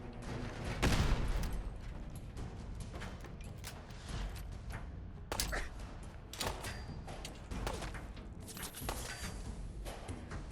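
Distant, muffled bursts of rapid gunfire in the video game Fallout 4, with a louder volley near the start and scattered shots afterward, set against a steady background rumble.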